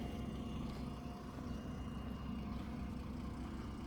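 Steady low engine rumble from a BMW E39 540i with the 4.4 V8 running without mufflers, a continuous deep drone filling the clip at moderate level with no talk.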